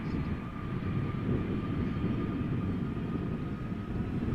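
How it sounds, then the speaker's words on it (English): A Delta Airlines Airbus A330-300 jet at Amsterdam airport gives a constant low engine roar with a steady tonal whine, unbroken throughout. "Delta Airlines flight 165. It is an Air A330-300, destined for Minneapolis"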